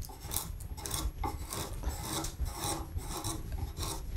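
Hand carving wood with a skew chisel, a close continuous rasping scrape in quick repeated strokes, steady and fairly loud without talk.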